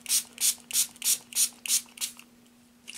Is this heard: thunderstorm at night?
no